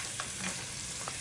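Butter and tomato puree sizzling in a pan while being whisked, a brief close steady hiss of frying with faint scraping strokes.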